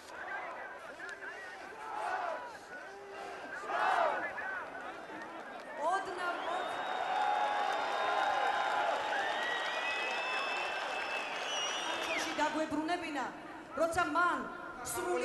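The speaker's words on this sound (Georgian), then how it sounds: "ივანიშვილის მხარდამჭერები ტაშით შეხვდნენ." Supporters of Ivanishvili clapping and cheering at an outdoor political rally and march, with sustained crowd noise, applause and shouts rising through the middle and fading to scattered voices near the end.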